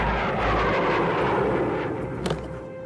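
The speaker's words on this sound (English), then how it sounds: "B-52 bombers loaded with nuclear weapons prepared for takeoff" B-52 bombers and fighter jets roar on takeoff, a loud, broad rumbling engine wash that stays strong and then thins slightly, with a brief sharp crackle late on.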